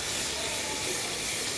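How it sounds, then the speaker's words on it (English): Cherry tomatoes sizzling in a hot pan while a stuffed eggplant and tomato ragu is cooked, giving a steady, even hiss close by with no talking. "Let's put in the cherry tomatoes. And they're just going to sizzle up a little bit."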